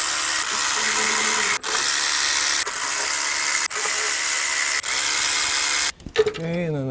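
A tool spins bolts back into an engine intake manifold on a Ford, giving a loud continuous whir broken by short gaps, then a few quick clicks and clanks at the end.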